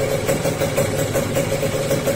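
A motorcycle engine idles steadily with the spark plug lead in place, a continuous mid-pitched mechanical drone with a fast regular pulse, loud and close, with no talk over it.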